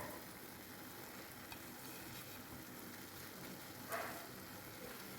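Butter melting in a pan with curry leaves and coriander, a faint, steady fine sizzle throughout with one brief louder crackle near the end, no voices.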